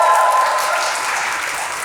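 Steady audience applause at a research and education lab day event, an even wash of many hands clapping, moderately close and fading slightly over two seconds with no voices over it.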